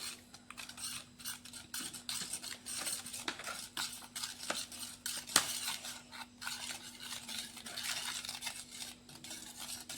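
Spoon stirring and mixing junnu batter in a bowl, soft scraping and light clinking strokes repeating steadily at close range, with no talk.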